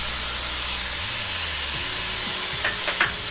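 Chopped onion fries in a cast iron dish, a steady close sizzle and hiss with a few stirring scrapes and clicks near the end.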